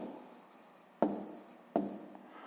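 A pen scratches out a maths note on paper, faint and close, with two sharp taps and short scribbled strokes between them.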